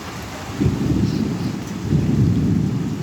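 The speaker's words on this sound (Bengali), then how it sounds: "আকাশও ডাকতেছে" Deep thunder rumbles and rolls in waves beneath a constant wash of falling rain, loud and close.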